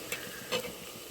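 Garlic, onion and green chillies sautéing in oil for a South Indian fish curry, with a steady soft sizzle and two brief louder scrapes of stirring, close and without talk.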